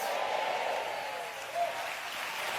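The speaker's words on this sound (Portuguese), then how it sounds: "Vamos aplaudir o nome dEle." A church congregation claps together in steady, sustained applause, a broad wash of many hands in a large room, with faint crowd murmur underneath.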